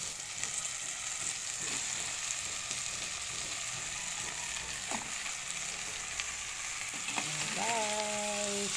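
Pieces of fried tilapia go into a pan for sarsiado, and a steady, fairly quiet sizzle of hot oil runs throughout, with a few faint clinks and a brief tonal sound near the end.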